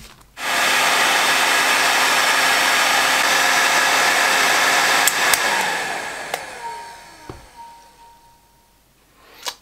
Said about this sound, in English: Let's get out the big Bosch heat gun.